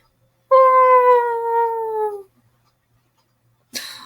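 A person imitates a dog's howl: one long, loud, drawn-out voiced howl that slowly falls in pitch over about two seconds, followed by a short breathy burst after a pause.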